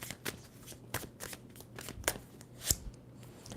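Tarot cards are shuffled by hand in short bursts of crisp riffling and snapping, close and fairly quiet, with brief pauses between passes and no talk.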